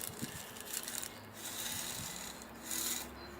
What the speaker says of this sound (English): First thing to do now is to add a little drainage layer